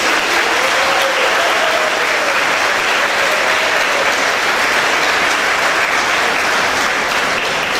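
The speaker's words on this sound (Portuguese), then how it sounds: "Merece uma salva de palmas grande para esta festa." Loud, sustained applause from a large audience at a board inauguration ceremony held at an Orthodox church, dense clapping filling the whole stretch without a break.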